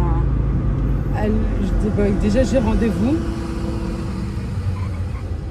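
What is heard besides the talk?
cars driving past outside open window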